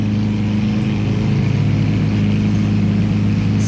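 A first-generation Lamborghini Aventador with a loud Capristo exhaust, a close, heavy engine drone holding steady and rumbling throughout, with a faint higher whine above it.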